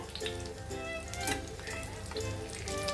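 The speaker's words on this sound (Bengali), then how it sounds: "আর এ সাইডটাও এভাবে লাল করে ভেজে নেব" Egg with onion fries in a pan with a continuous crackling sizzle, bright spatters popping throughout at moderate volume, and no talking.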